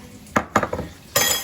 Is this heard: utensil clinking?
yes